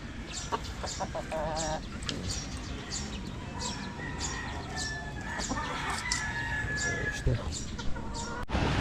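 Chickens cluck and a rooster crows nearby, with scattered chirps and faint voices mixed into the farmyard noise.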